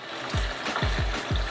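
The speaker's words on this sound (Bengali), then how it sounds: "এভাবে আমি 10 মিনিট ধরে চিকেনটা ভালোভাবে ভেজে নেব" Chicken pieces fry in hot oil, crackling in short sizzling bursts with a few sharper pops, close and moderately loud, with no voices.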